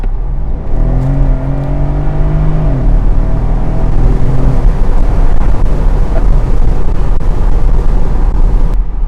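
A 2013 Mercedes-Benz SL 550 with a 429-horsepower twin-turbo V8 pulls hard under acceleration, its deep engine note rising through a gear change amid loud wind and road roar, close and dominant throughout.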